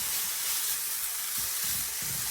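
A turkey and pork meatball mix sizzles in a hot pan with a steady, close, crackling hiss, and soft stirring thumps come through now and then underneath.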